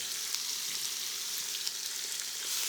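Veal osso bucco searing in a hot pan, a steady dense sizzle and crackle of meat browning in fat, close and continuous with no voices.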